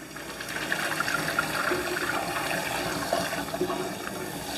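Cold tap water pours steadily from a kitchen faucet onto freshly boiled eggs in a pot, a continuous close rushing splash with no talk over it.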